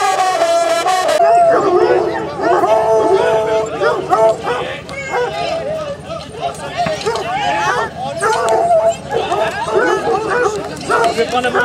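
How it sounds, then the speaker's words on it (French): A pack of hunting hounds at a boar hunt barks, yips and bays excitedly while tracking a fake boar pushed in a wheelbarrow, with people chattering and calling among the dogs close by. "Les chiens traquent un faux sanglier transporté dans une brouette."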